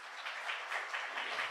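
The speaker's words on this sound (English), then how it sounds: "So please give the four of them a very big round of applause" Audience applause at a conference: a steady wash of many hands clapping, fairly faint and distant, with no voices over it.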